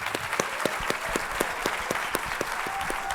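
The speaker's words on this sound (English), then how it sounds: "Ladies and gentlemen, one more round of applause." A conference audience applauds steadily in a large hall, an even, moderately distant wash of many hands with a few distinct nearby claps, with no talking.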